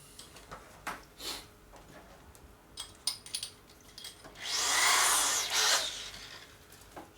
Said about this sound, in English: So I use my Black & Decker drill.